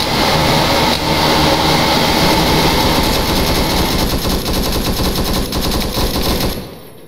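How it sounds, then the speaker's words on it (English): Loud, dense automatic gunfire from the Arma 3 video game in a Vietnam-era village battle, continuous rapid bursts filling the scene before dropping away at the end. "Gunfire makes communication difficult."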